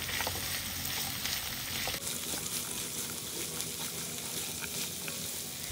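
Chopped onion and tomato frying in a pan over medium flame as they are stirred, giving a steady, dense sizzle with soft scraping strokes throughout, close and even in level.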